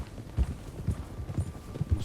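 Horse hooves clop along a trail in the Red Dead Redemption 2 video game, a steady, regular thudding rhythm at moderate, fairly soft level with no speech.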